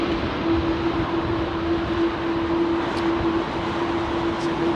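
A jet aircraft with GE CF6 engines at Heathrow Airport gives off a loud, steady broadband roar with a sustained droning tone, continuous and unbroken throughout.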